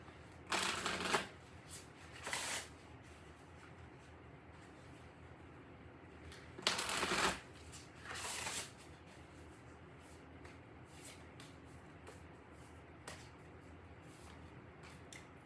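Tarot oracle cards being shuffled in four distinct riffling bursts over a low steady background hum, with no talking.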